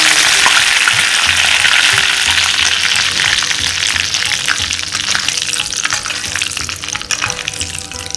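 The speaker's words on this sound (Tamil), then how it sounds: "கடுகு வடிச்சிட்டு ஆஃப் பண்ணிவிட்டு கருவேப்பிலை போட்டு" Mustard seeds spluttering and popping in hot oil as curry leaves go in, a loud continuous sizzle with crackling bursts, close and uninterrupted by talk.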